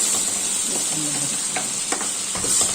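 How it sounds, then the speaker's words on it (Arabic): Fresh tomatoes and tomato juice are added to onions frying in a pan, giving a loud, close sizzle with stirring scrapes and a few soft clinks. "ننزل بقى بالطماطم وعصير الطماطم الفريش"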